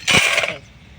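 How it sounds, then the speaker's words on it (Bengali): Crispy fried raw jackfruit chips, just drained of oil, are dropped into a container with a bright rattling clatter for about half a second before fading out. "পাত্রে রাখার শব্দেই বোঝা যাচ্ছে যে"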